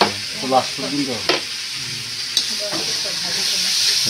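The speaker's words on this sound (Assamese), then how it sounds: "অলপ ভাজি ল'ব লাগিব বঢ়িয়াকৈ" Ingredients such as ginger-garlic paste and onion frying in a pan for a local biryani, a steady hissing sizzle with occasional stirring clinks, while someone talks over the first half.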